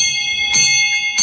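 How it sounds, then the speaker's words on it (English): A bell rung in America by a cancer patient marking the end of treatment, giving a sustained bright metallic ringing tone with a fresh strike midway and another at the very end. "This is him, Shaka, ringing the bell."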